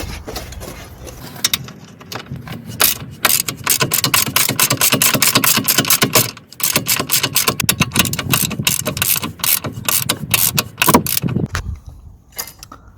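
Quick ratchet clicks come in close, rapid bursts as a socket tightens the front mount bolt of a Volvo XC60 lower control arm, pausing briefly midway before the clicking resumes.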